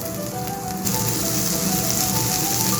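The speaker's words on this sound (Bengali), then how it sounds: "এবার আমি টমেটো কুচিটা দিয়ে দিচ্ছি" Chopped tomato hits a hot pan for egg curry, giving a loud, steady sizzle that swells slightly after the first second and keeps hissing evenly, with no voices.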